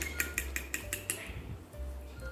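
Eggs being beaten with salt in a bowl, a quick series of light clinking strikes against the bowl that slows and fades, under a low background hum.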